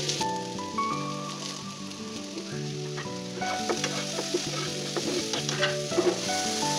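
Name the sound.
jackfruit seeds frying with green chillies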